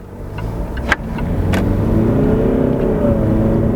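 Jaguar XF with a 2.2-litre diesel engine pulling away in drive, its engine note rising smoothly into a steady, close acceleration hum after a light click.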